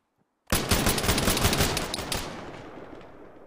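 A sudden burst of rapid automatic gunfire in the shooter Project Argo erupts out of silence, loud and dense for about two seconds before trailing off into a fading echo, with no talking.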